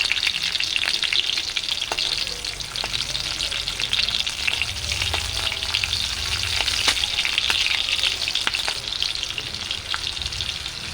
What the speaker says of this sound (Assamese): তেলখিনি গৰম হোৱাত জলকীয়া দিলোঁ, কেঁচা জলকীয়া আৰু নহৰু কেইফুটামান দি দিলোঁ